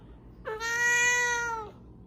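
A pet cat called Nacho lets out one long, clear meow lasting more than a second. It is close and loud, with no other sounds around it.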